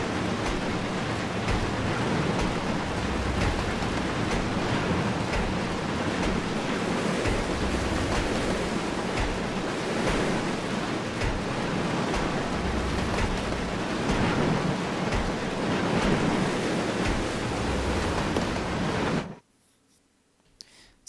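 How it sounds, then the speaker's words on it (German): Steady heavy rain pours down as a broad, continuous hiss in the Resident Evil Zero video game, loud and unbroken for most of the stretch before cutting off abruptly into near silence at the end. "Ich stehe nämlich immer noch im Regen."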